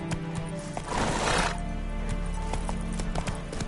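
A horse gallops in the video game The Witcher 3: Hearts of Stone. Rapid, close hoofbeats clatter in a steady rhythm, and a loud neigh bursts out near the start.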